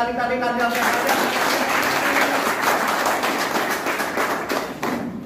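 An audience at a direct-selling training seminar in Assam claps together, a dense, continuous wash of applause that carries on for several seconds. A voice is heard briefly at the very start.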